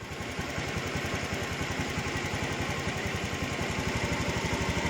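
A fuel-injected engine idling steadily at about 1280 rpm, warmed to 60 degrees, during an ECM sensor check with a JDIAG M100 scanner; an even, fast pulsing rumble, close and constant, with no speech.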